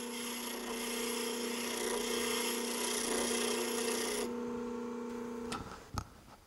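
A bench grinder wheel used for woodturning tools hums and rasps as a cleaner is drawn straight across it, a steady tonal whine with scraping that stops abruptly, followed by a couple of sharp knocks as it winds down.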